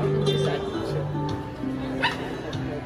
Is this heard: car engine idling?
no